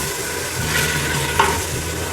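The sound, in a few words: potatoes frying and stirred in spices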